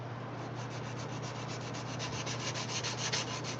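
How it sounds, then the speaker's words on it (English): Metal is sanded by hand with an aluminum-backed sanding block at a forge, giving a steady, close rhythmic scraping with regular back-and-forth strokes and a faint low hum underneath. "So I'm sanding with"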